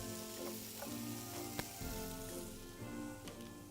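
Mushrooms sauté in a pan for a keto dish, a steady soft sizzle with occasional stirring clicks and scrapes, close and moderately quiet, with no talking.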